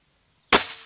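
A single sharp air rifle shot fired at an upper target, a loud close crack after silence with a short decaying tail.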